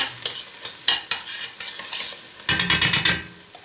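Tomato paste is stirred into a frying pot with a spatula, giving scattered scrapes followed by a quick run of rhythmic scraping strokes over a soft sizzle, up close.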